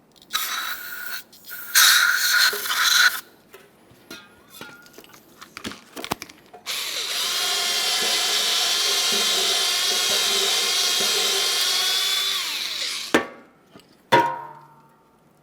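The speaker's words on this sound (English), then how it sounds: "We'll be using some parts cleaner and a bore brush, trying to remove as much grease or debris from inside of these as possible." A bore brush scrubs the slider pin ports of a brake caliper on a 2010-2013 Kia Forte Koup 2.4L, with bursts of parts cleaner spray, rapid scratchy brushing and a long steady hissing spray in the middle, close and moderately loud.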